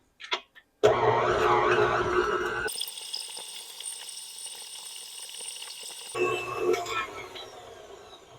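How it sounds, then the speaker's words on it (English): Butter beaten in a bowl for cake icing gives a loud whirring electric-mixer drone in bursts, with a shrill high-pitched stretch in between and scraping clatter near the end, no speech. "what I'm going to do with the butter there is I'm going to beat it until it's pale and creamy"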